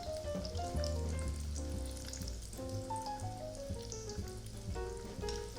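Ham croquettes browning in a pan of hot oil give off a steady, fairly loud sizzle that runs unbroken, with no one speaking over the frying.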